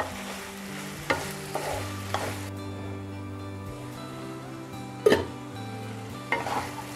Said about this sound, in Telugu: ఒకసారి కలిపేసి ఒక 5 మినిట్స్ మగ్గనిద్దాం